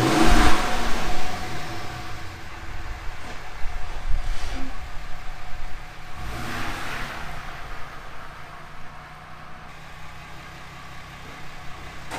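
A vehicle rolls a short distance forward and then back for a tire chalk test, with the rear tires set to 55 psi hot. Its engine hums moderately and fairly steadily throughout, a little louder at the start, with no talking.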